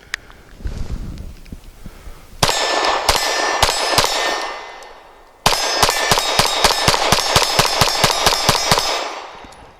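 Rapid pistol fire from a Taurus G3 striking steel targets: two quick strings of sharp, ringing shots with metallic clangs, loud and close, the second burst a fast steady rhythm of a dozen or more reports.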